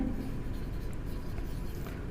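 A pen scratches steadily across paper while an equation is written out in a math lesson, a soft continuous scribbling sound close by and unbroken.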